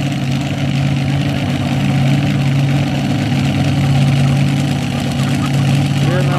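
A heavy pulling tractor of over 2,500 horsepower idles loudly at an Ontario pulling track, a steady deep rumble holding throughout at close range.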